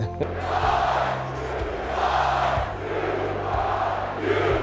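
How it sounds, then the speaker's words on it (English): A Rutgers football stadium crowd roars in rising and falling waves of cheering, loud and near, with low droning tones beneath the surging voices. "The crowd was going crazy"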